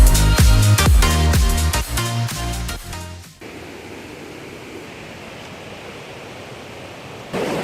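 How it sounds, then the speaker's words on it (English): After a few seconds of music cut off abruptly, the Koh Chang waterfall on a hot tropical Thai island fills the rest with a steady, even rush of falling water, close and unbroken. "we managed to find the Koh Chang waterfall"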